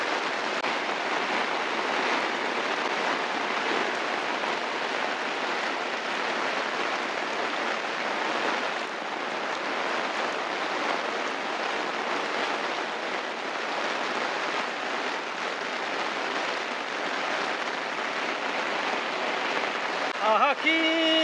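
Steady rain pours around someone walking under an umbrella in the hills of Upper Kumai, Kalimpong, a dense even hiss that persists throughout.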